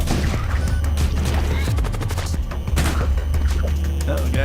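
Rapid, loud gunfire and heavy booms crackle in the Void War video game, dense bursts of shots with mechanical clanks, continuing without pause.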